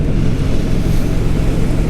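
A motorcycle engine idles with a steady, loud, low rumble that holds evenly the whole time, close to the microphone, with no voices over it.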